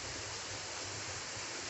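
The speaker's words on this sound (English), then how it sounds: "But here's the waterfall." Steady broadband roar of a waterfall at a house-sit property, continuous and fairly loud with no pauses, no other sounds standing out.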